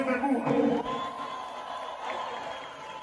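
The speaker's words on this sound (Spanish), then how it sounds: "aplauso a mi gente de Cuba." A concert crowd cheers and whoops, a dense wash of voices and shouts that is louder at first and then settles into a steady, fainter roar.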